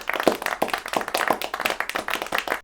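A round of applause sound effect: brisk, continuous clapping of many hands with a steady, dense rhythm at moderate loudness, with no voices.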